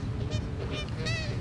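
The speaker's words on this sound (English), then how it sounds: "And so now I have an audience of geese." Geese honk several times in short, nasal calls from a little distance outdoors, over a low background rumble, with faint speech-like murmuring underneath.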